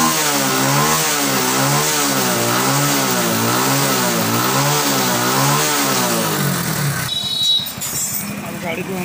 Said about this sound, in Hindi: हम पहले इसको 2-3 मिनट स्टार्ट रखते हैं, बाइक को गर्म करते हैं